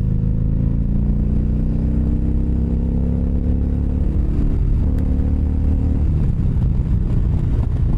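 A short, powerful motorcycle engine revs loud and close, its tone climbing steadily before it turns rougher and clattering toward the end.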